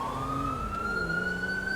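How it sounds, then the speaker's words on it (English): Illinois State Police car siren from a police chase game, a steady continuous wail slowly rising in pitch, loud and close with engine rumble underneath. "So I did switch to a siren that is, as far as I know, actually used by the Illinois State Police"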